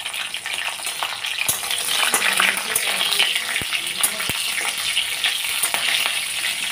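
Dried red chillies and nigella seeds sizzle in hot oil, a loud, bright, steady crackle with a few sharp clicks from a utensil, close and without talking.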